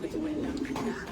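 A young pigeon gives a soft, low cooing, close and brief, with faint speech-like murmuring around it.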